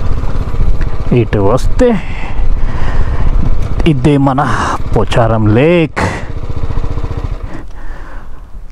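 A motorcycle ridden near Pocharam Lake outside Hyderabad, its engine revving in rising and falling bursts close by while someone talks over it.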